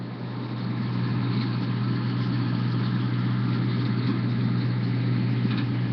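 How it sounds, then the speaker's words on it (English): A big blue tractor's engine runs at a steady idle, a low continuous rumble with a strong, even hum that holds for the whole stretch after a slight swell at the start. "Roy climbed into the cab and started the engine"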